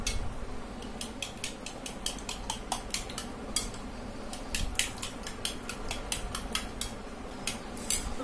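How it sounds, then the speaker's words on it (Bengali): Raw egg being beaten for a hair mask, with a utensil clicking rapidly and rhythmically against a bowl in quick, steady strokes, close and fairly clear, under a faint background hum. "তো এটা ভালো করে ফেটিয়ে নিচ্ছি"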